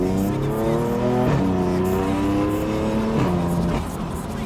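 A BMW M4 with an Akrapovic exhaust revs and accelerates hard, its deep bassy engine note climbing through rising gear sweeps with brief drops between shifts, loud and close throughout.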